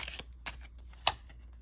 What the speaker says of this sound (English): So we're going to pull some cards.